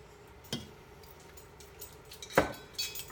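Noodles and beef stirred in a metal pot, two sharp clinks of a utensil striking the side over a quiet background, plus a few softer taps.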